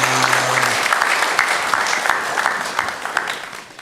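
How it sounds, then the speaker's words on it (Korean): A Sunday morning church congregation gives warm applause, many hands clapping in a steady, full wash that gradually tapers. "우리 영광의 박수를 우리 하나님께 올려드리겠습니다"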